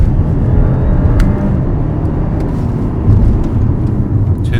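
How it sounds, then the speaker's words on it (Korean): An Audi A7 55 TFSI downshifts and accelerates hard, a loud continuous engine roar heard close from inside the car, with a whine reported during acceleration. "속도 줄이면서 기어 낮추고 급가속. 이 뭔가 윙 하는 소리는 첫 가속 때 들리는 것 같아요."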